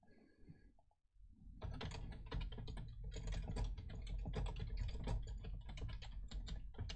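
Rapid, steady computer keyboard typing starts after a brief pause and runs continuously, close and fairly loud, dense key clatter with no voices over it.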